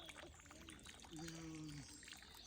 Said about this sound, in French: Ah oui, et il fait dans l'eau.